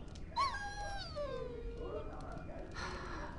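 A dog whimpers and whines in the Dragon Age Origins video game, a rising then falling plaintive cry near the start followed by softer whining, heard close over a steady background hum.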